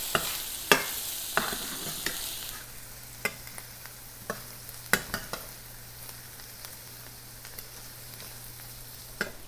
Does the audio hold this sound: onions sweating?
yes